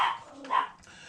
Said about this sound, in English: those are my dogs barking in the back.